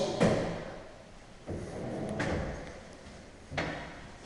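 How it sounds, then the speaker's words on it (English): Kitchen drawers in a new-build show home slide and bump shut three times, with each short, fairly close thud spaced a second or two apart over a quiet room. "So we've got Empty drawers."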